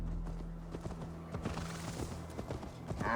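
Horse hooves from Assassin's Creed Valhalla gallop in a quick, even clip-clop rhythm, moderately close and fairly quiet, with a brief brighter noise at the end.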